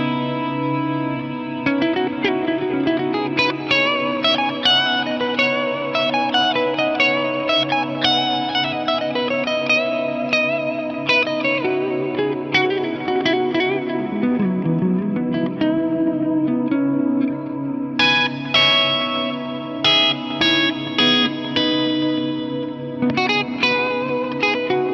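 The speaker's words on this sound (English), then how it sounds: "I've been doing some kind of reverb freeze stuff." Clean electric guitar, a 2002 Hamer Artist, played through a reverb freeze effect: sustained frozen chordal pads hum steadily underneath while fresh plucked notes and chords ring out on top, with bright strummed bursts near the end, no talking.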